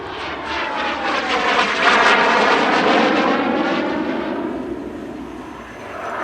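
Aero L-29 Delfin, a roughly 70-year-old jet trainer, flying a minimum radius turn at an airshow in Leszno, its engine a sustained loud roaring whine that swells and slowly fades as it passes.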